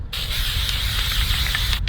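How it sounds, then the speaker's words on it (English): An aerosol spray paint can hisses out a continuous, steady blast onto a steel shooting target, starting and stopping abruptly; close and loud, no voices. "Hit this thing with some spray paint."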